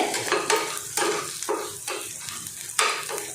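Onions sizzle in a hot pan while a spoon stirs them, giving a close, continuous fry punctuated by brisk scraping strokes about every half second.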